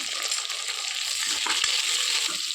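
Tomatoes sizzle and fry in a hot pan while pulao masala is cooked, a steady crackling hiss with a few light stirring clatters near the end.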